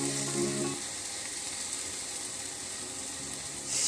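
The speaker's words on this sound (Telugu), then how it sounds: "షుగర్ బాగా కరిగేలాగా కలుపుకున్నామండి" Sugar is stirred into apple halwa as it fries in a pan, giving a continuous sizzle with soft scraping and stirring, fairly close and steady.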